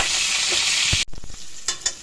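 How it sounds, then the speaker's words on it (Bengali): Boiled diced potatoes hit hot oil, a loud bright sizzle that suddenly cuts off and then gives way to a few knocks and scrapes of a spoon stirring in the pan. "এই তেলের মধ্যেই আমি এখন আলুটা, যে ডুমো করে রেখেছিলাম সেদ্ধ করে যে আলুটা, সেটাই ঢেলে দিচ্ছি।"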